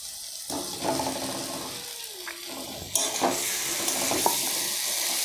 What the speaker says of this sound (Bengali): ঠিক এই সময় আমি এর সঙ্গে আলু আর পটল এই দুটোই ঢেলে দেব।